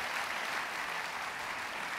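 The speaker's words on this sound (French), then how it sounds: "On l'applaudit." A conference audience at a health and exercise talk applauds a participant, producing a continuous, even wash of clapping for about two seconds, moderately distant and fairly soft.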